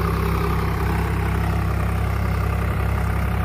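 A tractor engine running steadily in two-wheel drive, a close, even diesel drone with a deep low rumble and a constant mid-range hum, no voices over it.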